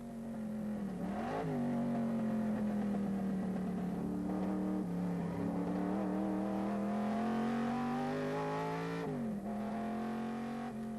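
A racing car on the 1997 Tour Auto, a French road rally for classic cars, holds a steady, fairly faint engine drone that rises and falls in pitch as it changes speed, with no talking.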